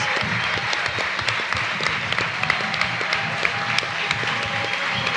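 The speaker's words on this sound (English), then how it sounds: "I think they deserve another round of applause" A crowd applauds steadily and warmly for a reggae band at a book launch, dense clapping filling the room without a break.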